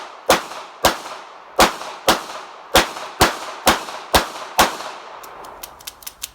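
Two .38 Special revolvers fire akimbo in a rapid string of about nine sharp, loud reports, each with a short ringing tail. A few quicker, lighter metallic clicks and clanks follow at the end.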